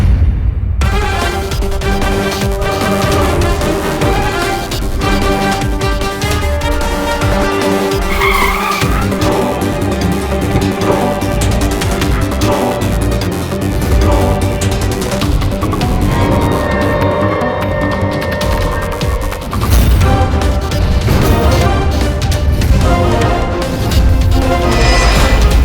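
A car skids and crashes in a road accident, with loud continuous tire screeching and engine noise layered over dramatic background music throughout.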